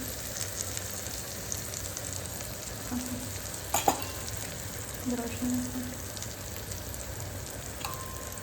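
Maggi noodles fry in a little oil in a pan with a steady soft sizzle throughout, broken by a couple of brief utensil clinks near the middle; no one speaks.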